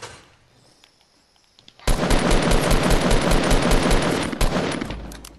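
Sustained rapid-fire bursts from an M16 assault rifle in a Fortnite match, loud and close, a dense rattling volley of shots that starts abruptly after near-quiet and runs for several seconds.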